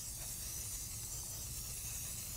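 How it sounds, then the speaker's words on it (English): Spray adhesive hisses steadily from an aerosol can in one continuous, fairly soft burst with no pauses. "So you just spray it really quick."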